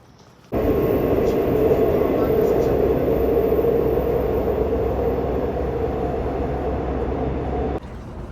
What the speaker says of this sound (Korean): 지하철 타고 갈 거임.